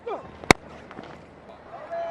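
A cricket bat strikes the ball in an India versus West Indies Test match, a single sharp crack heard once amid faint crowd and broadcast background.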